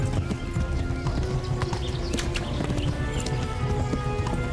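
Rapid, rhythmic hoofbeats of a galloping horse pound steadily and close, with game sound effects layered around them, in the video game Kingdom Come: Deliverance.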